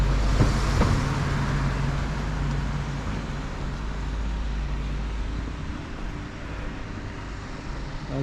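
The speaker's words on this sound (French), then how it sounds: "Beaucoup de voitures." Steady roadway traffic with many cars passing on a road beside old castle walls, a continuous low rumble and hiss with no gaps, fairly close and even throughout.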